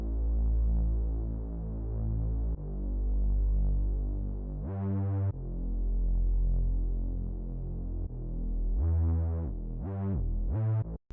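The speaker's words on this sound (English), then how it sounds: "So we got this Reese bass right here." A Reese synth bass throbs alone in long sustained, slightly detuned notes that pulse and waver, with a few sharper, brighter stabs near the end.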